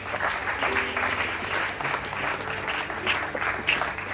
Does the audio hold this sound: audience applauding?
yes